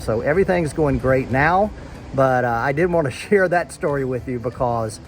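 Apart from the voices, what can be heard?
None of the usual background noises is heard.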